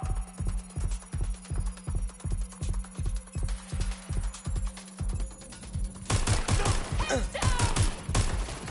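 Gunfire in the game Watch Dogs Legion, a long run of rapid, evenly spaced automatic bursts at close range, then denser, louder chaotic shooting in the last few seconds, with no voices.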